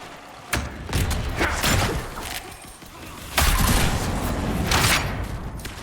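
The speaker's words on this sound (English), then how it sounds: "Great time to throw my bombs in the doorway since they'll have to come through" Bombs thrown into a doorway in the Dragon Age Inquisition video game go off as a string of sharp, loud blasts and thuds, with one burst near the start and another heavy one later, amid battle noise.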